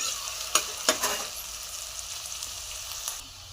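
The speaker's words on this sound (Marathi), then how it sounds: "त्याचा आपल्याला भाजून घ्यायचं आहे." Onion, garlic and chili frying in a pan for a Marathi dish, giving a steady close sizzle with several sharp clacks of a spoon stirring early on, the sizzle easing near the end, with no voices.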